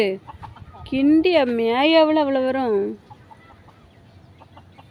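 A chicken lets out a drawn-out, wavering call for a couple of seconds, nearby and loud, with faint talk and quieter bird sounds around it.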